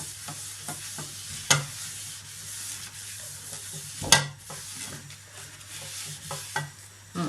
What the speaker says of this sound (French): je fais chauffer un petit peu d'huile dans une poêle que je vais étaler avec un sopalin